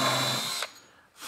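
A power drill runs through wood with an undermount drilling guide while fitting Blum drawer slides, a loud sustained whir that cuts off, then a brief restart near the end.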